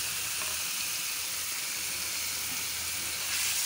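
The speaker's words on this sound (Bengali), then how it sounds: "পেঁয়াজটা ভাজা হয়ে গেছে, বাগারটা দিয়ে নিলাম।" Onion and green chilli tempering sizzles in a hot pan, a loud, close, unbroken frying hiss that swells slightly at the end, with no voices.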